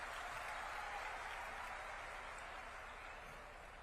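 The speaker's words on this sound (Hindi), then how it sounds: "और आप सबकी तरफ से एक तालियां चाहूंगा मैं मुख्यमंत्री जी के लिए" A large youth gathering at a Madhya Pradesh Youth Mahapanchayat applauds for the chief minister, a faint, distant, steady wash of clapping that slowly recedes.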